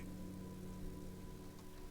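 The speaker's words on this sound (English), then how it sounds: "Rain drips from the eaves and floods the gutters, washing the filth away." Rain in the video game Disco Elysium falls steadily on a city, dripping from eaves and flooding gutters, a soft, constant patter with a faint low hum beneath it.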